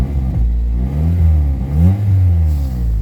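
A used car's engine, whose lifters tick, revs up and down several times at close range, a loud rising and falling mechanical drone with no voices over it.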